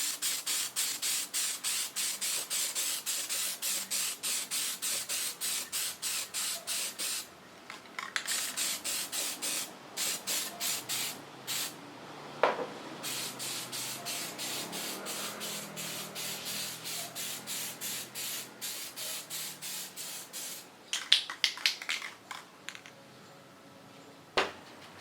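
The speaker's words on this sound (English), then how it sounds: "Let's spray paint it back." Repeated short bursts of aerosol spray paint coating a 3D printed cosplay helmet black, a rhythmic hissing pulse close to the microphone with brief pauses between sprays.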